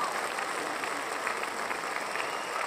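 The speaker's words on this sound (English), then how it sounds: "because it's okay to clap for something that's good." Audience applauding at a Lady Gaga live event celebrating "Love For Sale" with Westfield in 2021: a steady, dense wash of many hands clapping, moderately distant, continuing evenly throughout with no voices on top.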